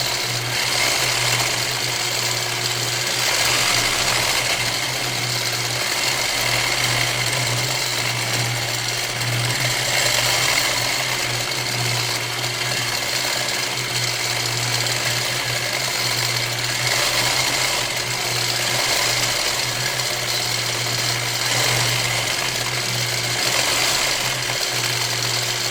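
A sewing machine stitches a feather fill quilting pattern with a continuous fast rhythmic needle chatter and steady motor hum, running loud and unbroken throughout.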